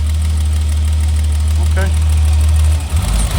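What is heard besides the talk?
1991 BMW E30 325i engine idling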